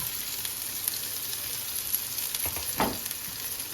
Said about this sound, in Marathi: राई टाकली आहे त्याच्यानंतर जिरा आता गेलाय कांदा